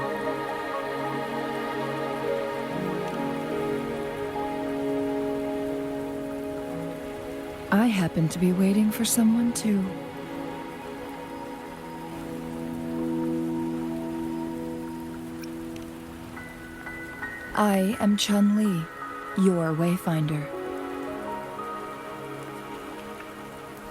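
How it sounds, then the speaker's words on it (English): Steady rain falling in the video game Wuthering Waves, a soft continuous hiss beneath sustained background music, with characters talking over it in places. "Are you trapped here by the rain?"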